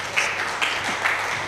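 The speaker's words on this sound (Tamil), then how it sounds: "ப்ளீஸ் எனக்கு ஒரு பலத்தை கைத்தட்டல் சாருக்காக கொடுத்துறா." An audience at a banking felicitation event claps together, a dense, even wash of applause that holds steady for the whole short stretch without voices breaking through.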